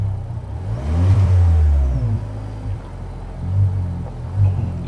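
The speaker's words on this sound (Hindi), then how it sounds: "जैसे आप एक्सेलरेट करते हैं ना गाड़ी को, ये साउंड अंदर आती है," Petrol engine of a Tata Harrier accelerating, heard from inside the cabin: a loud, low rumbling rev that swells, eases off, then rises again in shorter surges.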